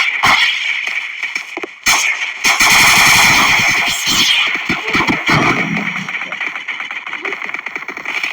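Airsoft rifle fire during an airsoft battle: loud bursts of rapid mechanical shots, sharp cracks and rattling volleys close by, with brief gaps and a faint voice in the background.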